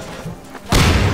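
A flammable barrel explodes after being shot in Half-Life 2, a sudden loud boom breaking out of quiet ambience and rumbling on to the end.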